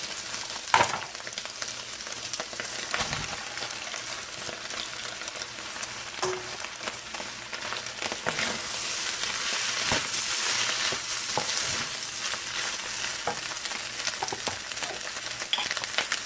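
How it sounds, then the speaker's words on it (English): Egg fried rice with mixed vegetables stir-fries in a hot pan, a steady close sizzle with continual scraping and tossing of the spatula throughout, no talk. "Once it's cooked, you can start mixing with your mixed vegetable and then add rice"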